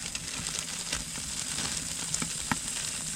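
Steady crackling sizzle of bacon frying over a fire, with scattered pops and snaps over a constant hiss, close and moderate in volume.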